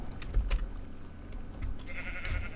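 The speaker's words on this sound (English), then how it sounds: "And you can see there's a sheep in here" A sheep in Minecraft bleats briefly amid faint game ambience, a couple of short, soft calls against a quiet background.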